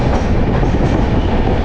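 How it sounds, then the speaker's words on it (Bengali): The 13175 Kanchanjunga Express on the Sealdah–NJP route races along at high speed, giving a loud, dense, unbroken rumble with rapid wheel clatter and no voices. "ট্রেন কিন্তু একেবারে ঝড়ের গতিতে চলছে।"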